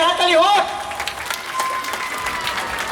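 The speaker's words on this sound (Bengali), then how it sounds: "সবাই মিলে একটু ওদের জন্য একটা জোরে হাততালি হোক।" An audience claps in an auditorium at a cultural event at Rabindra Sadan. A voice sounds briefly at the start, then steady, dense applause continues at moderate loudness for the rest of the clip.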